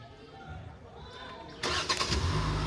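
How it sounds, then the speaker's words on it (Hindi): A Hyundai Creta SX (O) 2021 SUV starts remotely from the key fob while locked, a quiet wait followed by a sudden crank and the engine catching into a steady idle nearby. "देखो तो गाड़ी स्टार्ट हो गई है"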